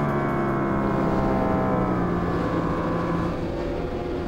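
Superbike engines rev and hold high on the starting grid at an Australian Superbike Championship round in Darwin, a loud, steady, dense roar of several machines.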